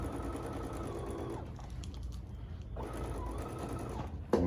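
A sewing machine runs steadily while stitching fabric for an upcycled skirt, its dense whir stopping briefly midway before starting up again, close and alone.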